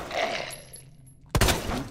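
A single sharp gunshot from Resident Evil 2 Remake cracks out loudly after a quiet stretch of game ambience, leaving a brief ringing decay behind it.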